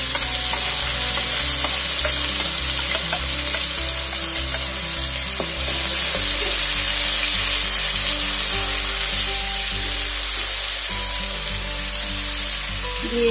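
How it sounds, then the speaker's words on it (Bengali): Ginger, garlic and onion paste frying in hot oil, a loud, steady sizzle close up that runs the whole time with a faint stirring texture. "এগুলো আমি তেলে দিয়ে দিই।"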